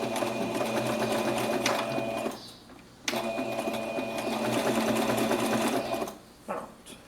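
Close, loud sewing machine stitching a curved seam on a cloud-shaped fabric pouch, running in two steady bursts separated by a brief pause, then a short stop-start at the end.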